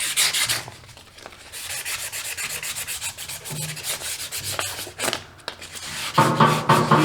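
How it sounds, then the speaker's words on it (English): Finger rubbing rust from the shaft of a used brush hog, a close, scratchy back-and-forth scrubbing in uneven strokes, with a few louder swipes near the end. "Clean it with your finger real good. Get off that old rust everywhere."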